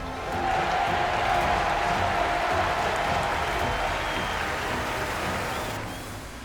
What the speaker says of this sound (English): To stand on the start line and to hear a crowd roar.